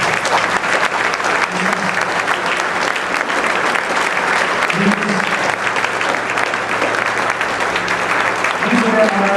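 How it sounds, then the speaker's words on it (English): A banquet crowd gives a big, steady round of applause as leaders come onto the stage, the clapping loud and continuous with a few voices audible underneath. "give them a big round of applause if they come out"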